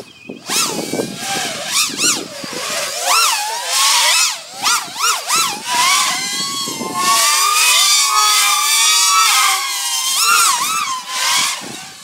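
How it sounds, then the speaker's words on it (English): A ViFly X150 4-inch quadcopter drone flies at full throttle, its loud, high-pitched motor whine sweeping up and down continuously as the speed changes, with no talking. "Very loud full speed on these props."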